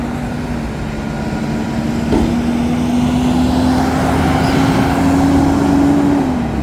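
A tow truck drives past on a road, its engine droning steadily with a faint rising whine, continuous traffic rumble throughout.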